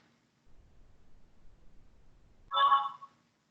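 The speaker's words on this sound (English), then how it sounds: "Sorry, I have a message." A short electronic notification chime from a phone sounds once, clear and fairly loud, after a stretch of faint low rumble.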